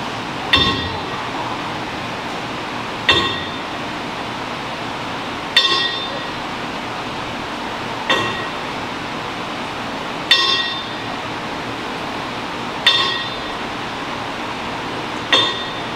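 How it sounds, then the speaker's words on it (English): A bell is struck at a wrestling show in a ten-bell salute, sharp metallic clangs spaced evenly about two and a half seconds apart, each ringing out briefly over a quiet crowd room. "I want to have a moment of silence and a 10 bell salute for Josh Trajan Ender Powell."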